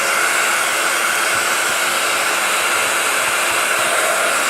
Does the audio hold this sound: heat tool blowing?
yes